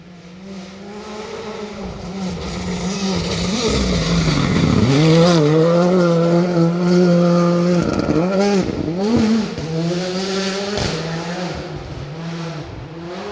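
A rally car on a gravel special stage at the Greystoke Stages drives sideways, its engine revving hard and rising and falling in pitch as it accelerates, loud and close throughout.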